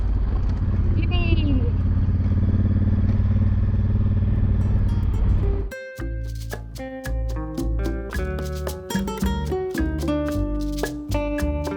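Motorcycle engine droning loudly while riding off-road through sand in the Bolivian desert, then cutting abruptly to music-like tonal clatter; no clear speech.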